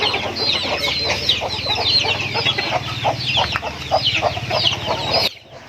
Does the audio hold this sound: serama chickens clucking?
yes